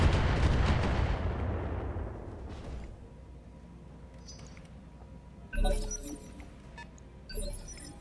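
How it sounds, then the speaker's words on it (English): BattleTech mechs fire missile salvos, opening with a loud, booming barrage that decays over a few seconds, followed by two sharper, closer bursts of impact crackle later on. "Sensor lock one and just fire missiles at another."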